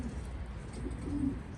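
Soft, low cooing from Syrian Damascene pigeons kept in a loft in Berlin, Germany; a close, gentle rolling coo rises briefly amid quiet background murmur, with no talking.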